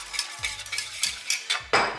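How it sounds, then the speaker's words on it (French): Apple compote and sugar stirred quickly together in a bowl, giving a run of soft, close scraping and wet clinking strokes in an irregular rhythm, with no talking. "je mélange rapidement les deux"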